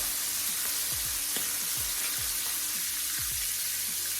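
Prawns sizzle steadily in a hot pan as they fry for a whisky-flambéed dish, a dense continuous crackle close by with occasional soft knocks as they are turned.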